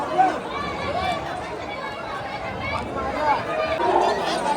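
Dense crowd chatter at the Ekvira temple palanquin festival, a steady babble of many voices around the listener with a nearby speaker talking over it.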